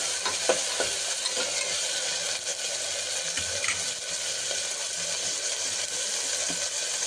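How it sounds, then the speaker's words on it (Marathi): Onion and tomato frying in a pan for homemade keema, heard as a constant close sizzle with scraping stir sounds and small taps from the utensil, with no talking. "त्याच्यानंतर थोडासा कांदा टाकते, त्याच्यानंतर टमाटर टाकते आणि थोडं लाल करून घेते"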